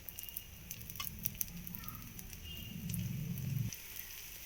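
Pesarattu, a green gram crepe, fries in a light coat of oil on a pan with a soft steady crackle and faint pops. A low rumble builds briefly before cutting off.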